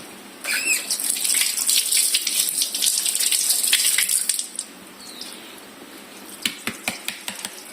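Tap water runs steadily as chili peppers are scrubbed with a brush while sisig is being prepared, followed by a few short knocks and drips after the flow eases.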